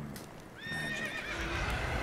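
A horse in The Witcher 3 video game whinnies loudly with a rising, wavering neigh, followed by clip-clopping hooves and low rumbling movement close by, with no talk.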